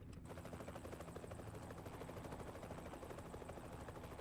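A helicopter in American Truck Simulator gives a steady, fairly faint rotor thrum with rapid chopping pulses, continuous throughout and with no talk.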